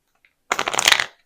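A deck of tarot cards shuffled by hand, the cards sticking a little in humid air; a quick, close riffling burst of papery flutter lasting under a second, alone after a tiny tap.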